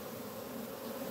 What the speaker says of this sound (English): here's the bee trap. Yeah, we got honey up here.